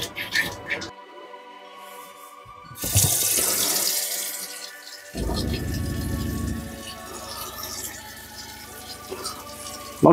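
A tap runs in spurts while air is purged from the water pipes, each burst a loud splashing gush broken by quieter gaps as the flow turns on and off.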